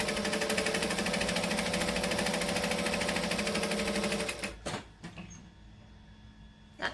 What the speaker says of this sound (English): I'm just going to sew 1/8 of an inch from the center